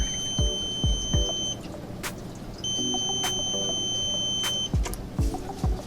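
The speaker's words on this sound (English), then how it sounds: "So it's gonna beep 5 long beeps." Flood Guardian ATO controller on an Icecap auto top-off setup sounds two long high beeps, alone and close, among low clicks and a quiet steady hum.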